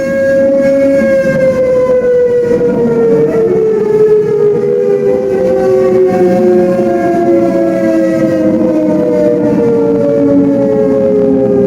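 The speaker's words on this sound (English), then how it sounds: "That's the classic war sirens that you hear." A wartime civil defense air raid siren wails loudly and continuously, its steady tone slowly falling in pitch with layered harmonics throughout.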